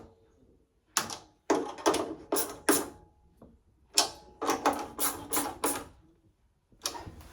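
Fixings on a gas boiler are tightened during a service, heard as close, sharp metallic ratcheting bursts in short clusters separated by brief pauses.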